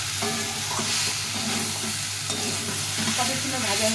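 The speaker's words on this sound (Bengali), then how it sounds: "সবজিটা এরকম ভাজা হয়ে যাবে" Vegetables such as okra, drumstick and ridge gourd fry in a pan with ground cumin, a constant close sizzle broken by the scrape and clatter of stirring.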